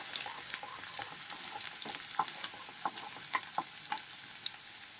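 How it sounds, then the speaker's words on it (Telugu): Onions frying in hot oil for a prawn curry, stirred with a wooden ladle: a steady close sizzle broken by frequent light scraping knocks. "గరిటె తీసుకొని వేపుకోండి, చెక్క గరిటె."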